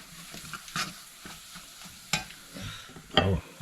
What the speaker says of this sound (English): Just have to keep stirring it.